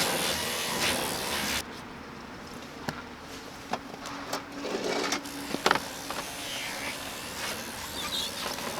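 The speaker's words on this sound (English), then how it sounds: "I'm just gonna finish this thing off with the yellow cutting pad" A yellow cutting pad on a rotary polisher buffs an Acura headlight lens, giving a soft, steady whirring drone with small scuffing ticks, fairly quiet and close.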